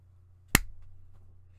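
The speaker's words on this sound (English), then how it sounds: "I do a little clap." A single sharp hand clap cracks once up close, then fades into quiet background hum.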